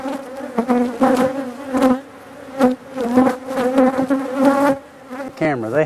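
Honeybees buzzing around an open hive, a dense, close, wavering drone that pulses in loudness as insects fly near, continuous throughout with no clear talking.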